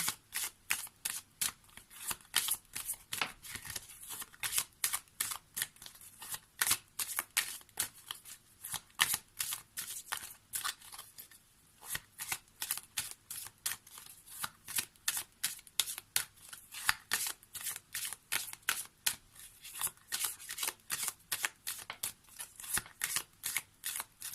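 A deck of Message des anges oracle cards being shuffled, close and steady, with rapid repeated riffling flicks running continuously and no talk.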